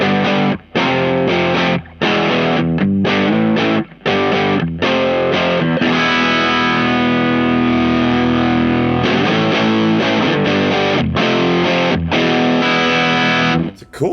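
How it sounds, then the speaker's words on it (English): Electric guitar through a Crazy Tube Circuits Killer V overdrive pedal plays loud, gritty chords and riffs with short rhythmic pauses between phrases, the driven tone thick and sustained throughout. "It's a cool sounding overdrive."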